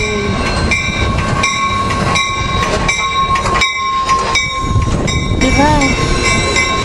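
An Amtrak passenger train with Amfleet I cars rolls past close by, loud rumble with rhythmic wheel clatter, tonal horn and squealing overtones, and voices briefly heard near the end.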